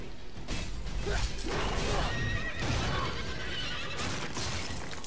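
Horse whinnies ring out over a dense, busy soundscape in the video game Stranger of Paradise: Final Fantasy Origin, with mechanical clatter and hoofbeats mixed underneath.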